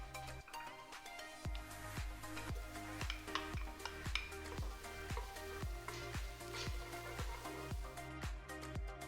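Garlic and onions sizzle in a pot for homemade vegetable soup, a steady close frying hiss with occasional utensil clinks over a regular low thumping beat.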